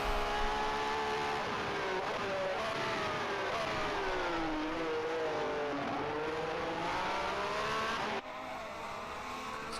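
Vintage 1967 Formula One race cars in a racing game, howling through a viaduct at Longford: a continuous high engine whine rising and falling with the gears, loud and close, then a sudden drop as the view cuts away.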